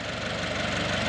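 A Toyota GR86 boxer four-cylinder engine runs steadily up close, a continuous mid-pitched rumble with a pulsing throb and no pauses.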